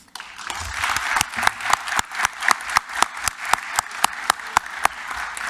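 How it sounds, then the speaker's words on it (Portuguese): An audience at a bar association event applauds their president, a rhythmic, moderately loud round of clapping with distinct sharp claps standing out over the steady patter. "pedir uma salva de palmas para o nosso queridíssimo presidente Vitor Hugo de Freitas"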